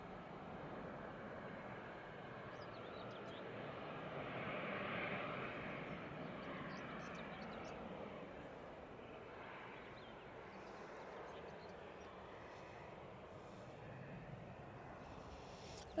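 An Aer Lingus A320 at Manchester Airport, heard as a faint, distant, continuous jet rumble that swells slightly and then holds steady.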